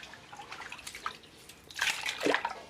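Soft splashing and trickling water with a few drips as raw potato slices for chips are rinsed, building to a brief louder pour near the end.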